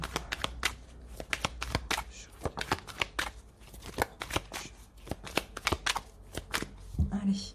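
Rider-Waite tarot cards shuffled and cut by hand, a rapid run of crisp riffling snaps and flicks in uneven bursts, close and fairly quiet, with a soft thump near the end.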